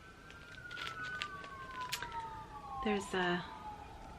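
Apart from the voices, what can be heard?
ambulance siren passing outside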